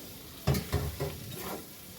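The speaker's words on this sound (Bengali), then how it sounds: "এইবার এঁচোরগুলি দিয়ে এবার ভালো করে একটু কষিয়ে নেব আমি" Unripe jackfruit and tomato sautéing in a pan for an egg dorma, a few scraping stirs with a soft, low sizzle underneath, fairly quiet and close, no talk.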